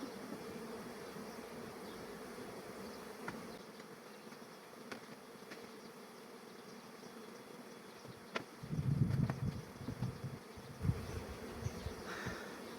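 A honeybee colony hums steadily at an open hive during frame work by a beekeeper, a continuous low buzzing throughout with a louder, denser swell of bees passing close near the end.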